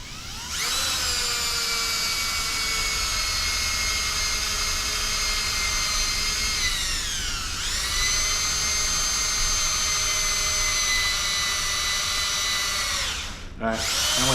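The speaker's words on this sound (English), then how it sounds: "You just want to make sure you get the drill in there straight." A power drill whines at high speed for a long stretch while boring through black Delrin plastic, its pitch dipping briefly under load before steadying, then cutting off.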